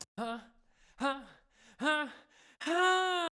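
A man's raw, unprocessed vocal imitating an elephant: four throaty, harmonic-rich bursts with falling then rising pitch, the last one longer and sustained, close and dry with short silent gaps between.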